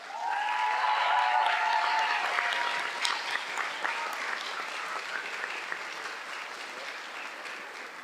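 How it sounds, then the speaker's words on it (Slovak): A large audience at a church-related stage event bursts into loud, sustained applause welcoming guests onstage. The clapping starts dense and gradually thins over several seconds, with a few cheers mixed in. "takže veľkým potleskom prosím privítajte Ivanku a Paliho Danka."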